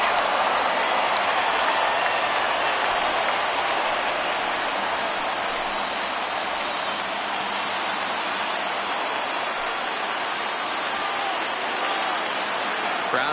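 Crowd at a Phillies vs. Reds MLB baseball game rising for a full count, a steady broad roar of cheering and applause across the stadium, sustained throughout.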